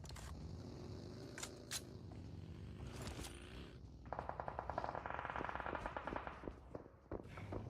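A rapid spray of automatic gunfire crackles in a PUBG Mobile esports match, starting partway through as a fast, steady burst of sharp shots after quieter scattered pops and clicks, moderately distant.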